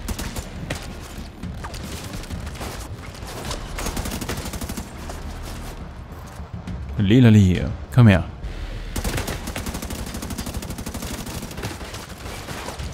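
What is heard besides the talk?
gunfire from the video game The Division 2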